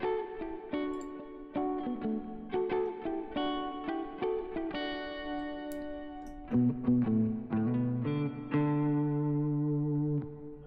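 Original, unprocessed guitar licks play as a series of plucked, melodic phrases with clear sustained notes and short pauses, alone with no talking.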